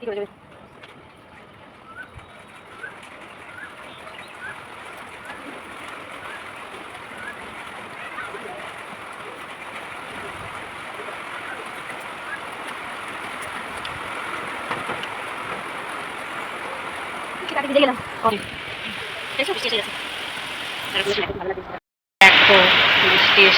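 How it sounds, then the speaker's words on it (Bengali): Heavy rain pours steadily with gusting wind, a dense broad hiss that swells slightly over time, with a few louder splashes and knocks near the end before a sudden loud burst. "খুব জোরে জোরে বৃষ্টি পড়ছে আর সঙ্গে হাওয়াও দিচ্ছে"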